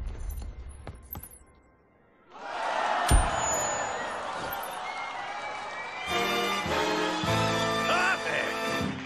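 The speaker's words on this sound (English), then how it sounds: "I haven't heard applause like that in years." Audience applause and cheering in the Skylanders Imaginators video game, a broad crowd swell rising after a quiet moment with a few sharp hits, then sustained clapping under game music.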